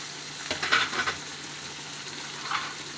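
Onions, two green chilies, ginger and garlic sautéing in coconut oil in a pan, giving a soft, steady sizzle broken by a few brief scraping stirs near the start and one more toward the end.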